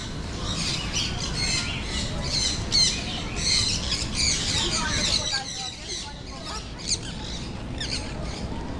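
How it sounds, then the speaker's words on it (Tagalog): Birds squawk and chirp repeatedly with sharp calls throughout, close by, while people talk in the background. "mga ibon."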